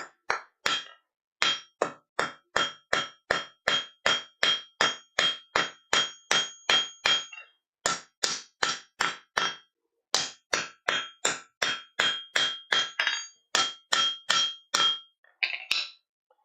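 A hammer lightly chamfers the edges of copper at a forge, delivering dozens of sharp ringing metallic strikes in a quick steady rhythm with a couple of short pauses, close and clear without talk.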